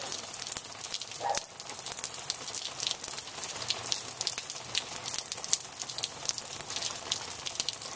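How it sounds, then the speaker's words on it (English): Rain running off a lead-covered roof, a dense continuous crackle of drips and splatter with small irregular taps, fairly faint and steady throughout with no talk. "there's lead on the roof and rain's coming off the roof"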